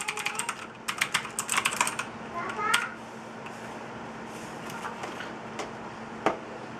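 Fast bursts of clicky keystrokes on a cheap, roughly fifty-dollar mechanical keyboard, close and loud, thinning out into scattered single clicks over a steady background hum.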